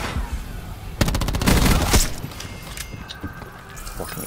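Rapid automatic gunfire rattles in a first-person shooter video game: one dense burst of shots for about a second, then scattered fainter clatter and game sounds.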